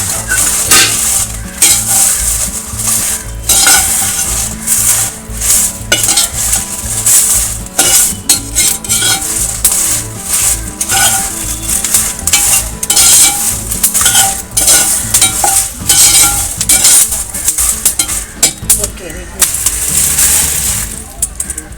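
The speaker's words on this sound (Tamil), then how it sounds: "பெருங்காயம் நல்லா ஃப்ரை ஆகிடுச்சு. அது கூட கொஞ்சம் நம்ம கருவேப்பிலை போட்டுக்கலாம். மிளகாவும் ஒரு பெரட்டி பார்த்து" Asafoetida, curry leaves and chillies fry and crackle in a pan while being stirred, a loud, steady sizzle with the metal spoon scraping repeatedly, and a voice talks over it throughout.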